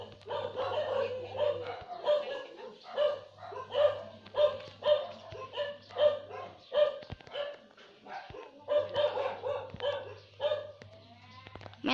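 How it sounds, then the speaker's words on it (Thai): A dog howls near a house, long wavering howls repeating in drawn-out phrases over about twelve seconds, fairly close and clear, with a low steady hum beneath at times. "มาแถวบ้านหอนครับทุกคน"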